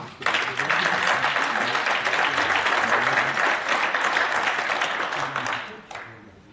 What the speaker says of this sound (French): Je vous demande d'applaudir Yassine